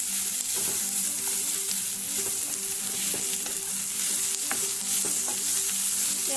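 Onions sizzle and fry steadily in a pan for Goan-style chicken vindaloo, a dense continuous hiss broken by frequent scraping clicks of a spoon stirring, close and alone with no talking.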